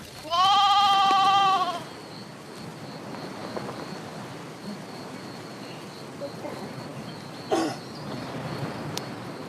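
A loud, quavering bleat from Himba herders' sheep or goats in an enclosure opens the clip, then quiet rustling ambience follows with a brief clatter near the end.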